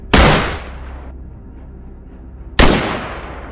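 Two sharp, loud rifle shots fired at a wild boar on an Anatolian mountainside during a hunt, the first echoing and rumbling away before the second cracks about two and a half seconds later.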